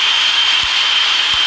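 Boeing 777-300ER jet engines roar at takeoff power during rotation in a flight simulator game, a loud steady high-pitched whine and rush with two faint thumps, no voices.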